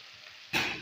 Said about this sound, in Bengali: এখানে আলুগুলি ভাজি